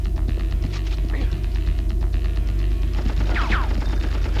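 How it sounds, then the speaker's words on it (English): Rapid bursts of gunfire from the PlayStation 1 game Apocalypse crackle without a break over a steady low rumble of game sound and music. "let's shoot this guy"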